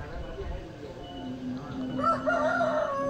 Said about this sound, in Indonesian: Dan ada ayam berkokok,